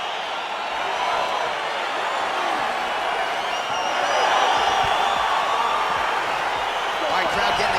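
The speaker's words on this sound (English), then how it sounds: "crowd getting excited as this fight gets underway" A dense arena crowd roars continuously at a UFC 5 video game fight night as the bout gets underway, a steady, loud wash of cheering and excited noise that swells slightly midway, with no distinct voices standing out.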